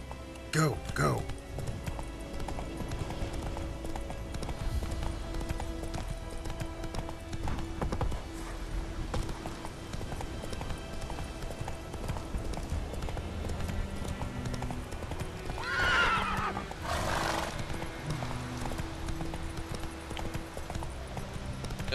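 Horse hooves clip-clop steadily at a gallop throughout in The Witcher 3: Wild Hunt, with a brief whinny partway through and a voice talking over it near the start.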